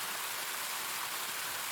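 Steady rain falls in the video game Ame no Marginal, an even, unbroken hiss of drops with no other sounds over it.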